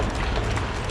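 The London horse-drawn dust cart rolls past at a cart marking ceremony in Guildhall Yard, City of London, its horses' hooves clip-clopping in a steady, close rhythm over dense outdoor noise.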